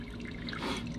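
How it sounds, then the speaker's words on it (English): Engine oil drains from a 2013 Ford Edge in a brief, steady liquid trickle, close and fairly quiet. "we'll let all this drain as much as can out of here"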